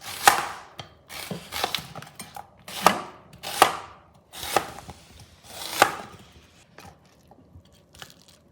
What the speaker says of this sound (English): Now for your onion, I actually like it quite chunky, so you want to do thick slices.